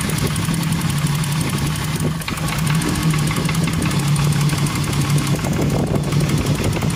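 A car engine runs steadily nearby, a loud, even mid-pitched hum with a faint knocking vibration and no talk over it.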